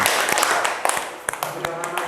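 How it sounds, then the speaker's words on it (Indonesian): A small class of students claps briefly for a presenting group, scattered uneven claps tapering off, with voices talking over them. "Kasih tepuk tangan"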